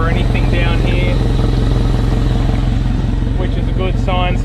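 Boat outboard engine idles steadily with a rapid, chugging pulse while being flushed with fresh water, close and continuous, with bursts of talking over it.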